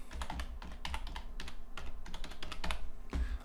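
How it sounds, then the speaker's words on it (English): Rapid, uneven typing on a computer keyboard, clicks bunched in quick bursts with short pauses, fairly quiet and close with no voices. "in the value field type in description"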